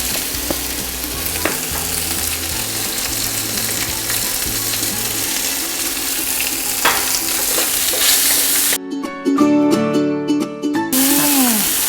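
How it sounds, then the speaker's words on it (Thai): Pork stir-frying in a hot pan, loud close sizzling with repeated spatula scrapes and tosses, ending with a brief burst of clattering and ringing metal. "เขาคั่วหมูให้สุกพอประมาณ"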